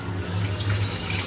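Tap water runs steadily into a kitchen sink as vegetables are rinsed before cooking, a continuous close splashing flow with no talk.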